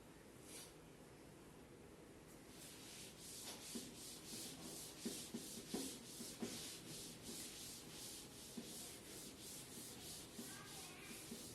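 A duster rubbing writing off a classroom board in steady, rhythmic strokes, a soft scratchy swishing repeated many times at close range.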